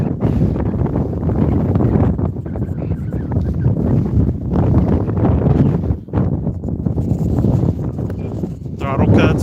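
Strong gusts buffet the microphone during a flight with a small E-flite UMX A-10 Thunderbolt II RC plane, a loud, rumbling roar that swells and drops, with a brief lull near the end.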